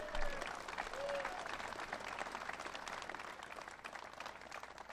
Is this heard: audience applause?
yes